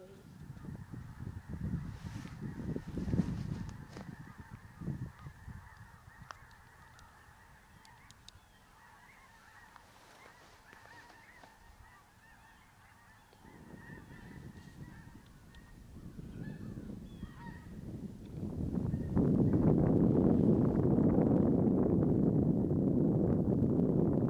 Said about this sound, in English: This morning I got woke up from the sound of all the geese